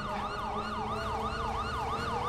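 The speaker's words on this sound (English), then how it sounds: "Probably the siren's still going off." A wailing police siren on a modded Texas State Trooper Dodge Charger in GTA 5 cycles steadily up and down in loud, even sweeps over a low engine rumble, with no talking.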